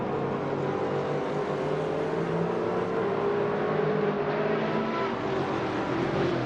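GTR race cars lapping Mugello in a racing simulator game, a steady dense engine roar with shifting tones of several cars close together, continuous and loud throughout.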